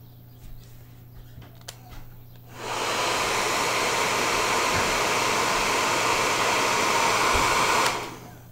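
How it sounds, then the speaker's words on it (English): A blow dryer switches on after a few quiet seconds of faint handling noises and runs with a loud, steady whooshing roar for about five seconds while drying paint on a miniature figure, then cuts off. "Get my blow dryer."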